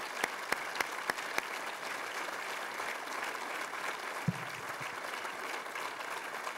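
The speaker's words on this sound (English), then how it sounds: "Let's have a round of applause for our guests here today from the Council" Steady applause from a seated audience of guests at a Toronto city council meeting, fairly distant and even throughout, with a few sharper knocks early on and no talking over it.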